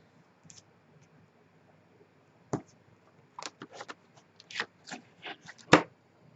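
A small paper coin envelope being ripped and handled, with scattered crisp tearing and crackling bursts, quiet at first, then clustering in the last few seconds.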